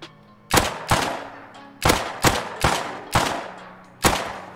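Gunfire in the survival game Rust, with about seven loud, sharp shots spaced irregularly across the moment, each with a short decaying tail, and no talking.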